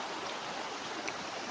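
A high, swollen river rushing through a rural provincial spot, a continuous broadband roar of flowing water with no breaks and no talk, fairly distant and even.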